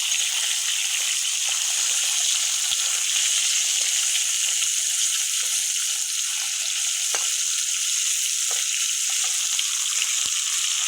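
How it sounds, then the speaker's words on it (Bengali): Fish heads fry in hot mustard oil in a wok, giving a loud, steady sizzle with scattered sharp pops and crackles throughout, close up and with no talking. "আমার মাছের মাথা ভাজা হয়ে গেছে, আমি উঠে নিচ্ছি।"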